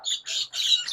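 Pet breeder-pair birds, cockatiels or lovebirds, squawking close by in a few sharp, harsh bursts in quick succession.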